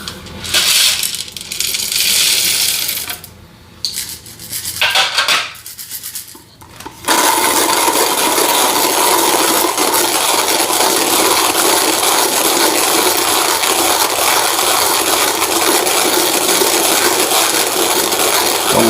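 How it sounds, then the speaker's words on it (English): Coffee beans being hand-ground at a coarse setting for French press, Colombian beans: a steady, loud gritty rasping that runs continuously through the second half after a few broken scraping bursts and pauses at the start. "the lack of resistance is just so apparent when you're grinding coffee this coarse"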